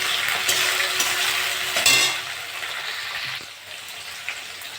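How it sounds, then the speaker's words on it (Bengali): Prawns sizzle with onion in a hot pan, a loud hiss with a sharp clatter near the middle, then the frying eases slightly toward the end. "একটু চিংড়ি মাছ দিয়ে দেবো, একটু ভেজে নেবো।"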